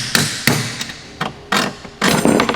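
A hammer drives bushings out of an S15 car subframe, five sharp, close metallic blows at uneven intervals, the last one ringing longer.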